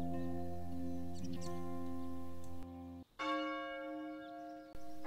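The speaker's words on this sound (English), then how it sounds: "There are three bells in the park, and this bell is called the Frisco Bell" Large church bell in an outdoor park setting, struck and left ringing with a long sustained metallic hum, then struck again with a bright new ring that decays slowly; loud and close, no talk.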